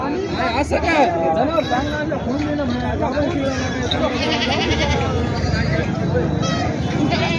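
Goats bleat repeatedly at a busy weekly goat market in Maharashtra, the cries rising over constant crowd chatter and nearby talking voices.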